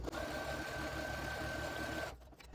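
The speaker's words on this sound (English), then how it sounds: "cut it off so it hangs over just a tad, and just sew that down right on there" Sewing machine stitching a quilt fabric strip, a fast steady mechanical whir with a faint hum, close and continuous for about two seconds before stopping.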